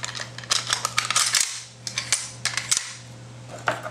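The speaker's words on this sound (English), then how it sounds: "Gotta reinstall your bolt carrier and bolts." Metal parts of an AK rifle click and clack sharply as the bolt carrier and bolt are slid back into the receiver. Several distinct close knocks and rattles sound over a low steady hum.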